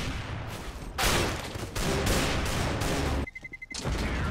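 Bursts of gunfire fill a CS:GO match, loud and dense, with heavy volleys broken by a brief quieter gap before the shooting resumes.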